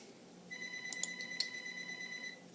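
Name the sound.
telephone ringing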